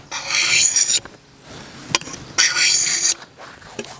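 A thin-edged tool scrapes varnish off a budget axe handle in two long rasping strokes with short scratchy scrapes between, close and fairly loud, no voices.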